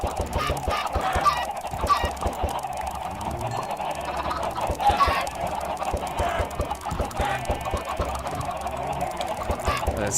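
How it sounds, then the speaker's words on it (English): Minecraft chickens cluck and squawk continuously at a mob farm, a dense, steady chorus of many birds close by over game noise. "We could just go and breed the chickens if they are that way inclined"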